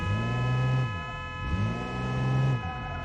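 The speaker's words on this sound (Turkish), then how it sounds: "Basma artık kornaya." Car horn in the BeamNG.drive driving game, two long sustained honks separated by a short gap, steady and moderately loud with a hum underneath.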